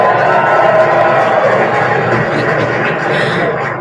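A talk show studio audience at a book discussion bursts into loud, sustained applause and cheering for an author, dense and close, tapering slightly at the end.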